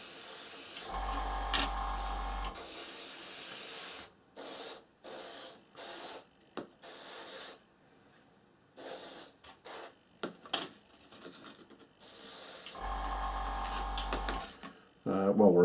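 Spray painting a plastic model kit of a C-17 Globemaster III: close hissing aerosol bursts, a few long sprays and several short rapid puffs separated by quiet gaps.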